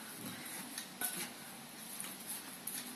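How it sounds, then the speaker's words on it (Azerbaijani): A rice stuffing for pumpkin dolma being mixed by hand in a bowl, soft squelching and light clinks of the dish, quiet and close with small irregular bursts. "Əllə qarışdırmaq daha da yaxşıdır. Əlimlə qarışdırıram."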